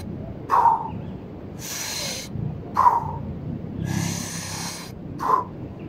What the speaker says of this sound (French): normalement, on fait 30 respirations comme ceci.